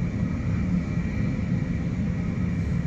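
An Airbus A380 airliner taxis at Los Angeles International Airport, a steady low engine rumble and whine holding at an even level for a few seconds, with no voices.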